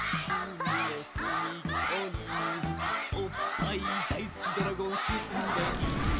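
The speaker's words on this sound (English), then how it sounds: "And all the kids are cheering him on" Excited children cheering and shouting together over a loud theme song in an anime episode, the crowd voices rising in continuous, rhythmic bursts over the music throughout.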